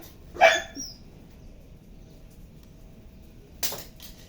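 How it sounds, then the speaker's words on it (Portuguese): A dog barks twice outdoors, one sharp bark with a short follow-up yelp, then a pause of about three seconds before a second single bark, fairly near against a quiet background. "Cachorro latindo."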